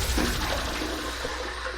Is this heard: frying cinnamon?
no